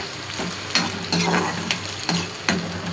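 Masala spices roasting in oil for a chicken dish, a steady near sizzle with repeated stirring scrapes and clinks of a spoon against the pan.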